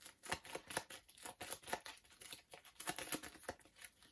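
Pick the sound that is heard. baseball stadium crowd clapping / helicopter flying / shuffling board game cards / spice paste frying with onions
shuffling board game cards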